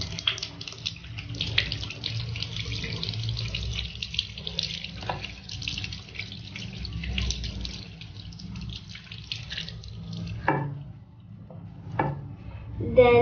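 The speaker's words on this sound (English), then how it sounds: "Rinse soap off your hands." Tap water runs steadily while soapy hands are rinsed under it at a sink, a continuous near splashing hiss with brief louder bursts toward the end and faint talk in the background.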